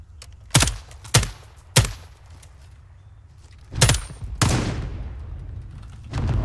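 Gunfire in the video game Warzone: three sharp shots in quick succession, a pause, then two more heavier blasts followed by lingering rumble.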